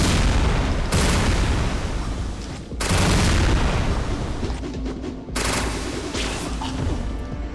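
Loud gunshots in the video game Resident Evil Dead Aim, three heavy blasts several seconds apart, each followed by sustained crackling rumble and echo.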